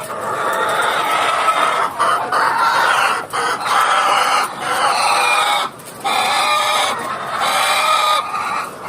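A flock of farm chickens clucks loudly and insistently, overlapping calls rising and falling with brief pauses, close to the listener.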